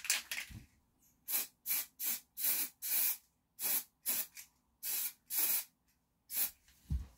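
Glue is sprayed onto fly tying material in a rapid series of about a dozen short aerosol hisses, close and fairly loud, separated by brief pauses.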